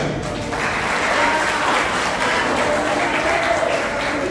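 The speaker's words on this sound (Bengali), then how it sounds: "আপনাদের সবার কাছ থেকে একটা করতালি চাই" Audience at a convention breaks into sustained applause, dense and steady clapping filling the hall for the full stretch without a break.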